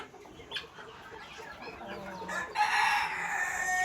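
Brahma chickens, a pair with a white rooster, clucking and crowing in a poultry yard; scattered clucks build to a loud sustained crow near the end, with no talking.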